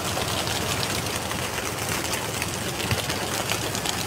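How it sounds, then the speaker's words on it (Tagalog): Racing pigeons released at a derby in Balatan, Camarines Sur, a dense, steady wash of fluttering wings with a low rumble underneath and no clear voices. "sinalipad na yung mga ibon."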